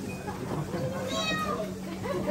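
Cats meowing upstairs in a home while a meal is being served in the kitchen below, a drawn-out rising meow heard moderately loud over room murmur and nearby talk.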